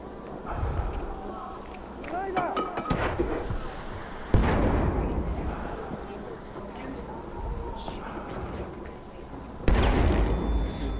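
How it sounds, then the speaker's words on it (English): Grenade blasts during a Battlefield 1 match, two heavy booms, one midway and one near the end, amid constant battlefield noise while several players talk over the action. "Somebody's throwing grenades in."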